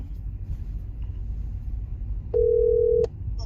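A steady phone tone sounds for under a second over low, rumbling background noise, beginning and ending abruptly with soft clicks around it.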